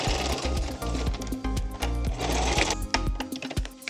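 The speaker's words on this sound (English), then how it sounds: "I'll start by sewing in that corner and going all the way across" A sewing machine stitches across the corner of a vinyl lunch bag, whirring in short, uneven runs with clicks and pauses, close and fairly quiet.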